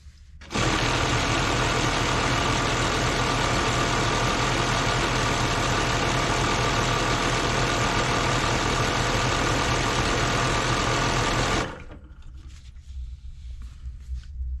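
PX302 sewing machine modified with a 4W single-needle setup stitching fabric, a loud steady mechanical whir running continuously for about eleven seconds before stopping abruptly, leaving quieter background noise.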